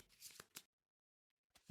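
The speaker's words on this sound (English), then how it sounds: "Let's pick these up, flip them over, set them down, give them a shuffle" Cards shuffled and handled on a table while playing the Kingdom Death Monster board game in simulator mode; a few quick riffling bursts near the start, then silence, a soft tap and a sudden louder thump at the end.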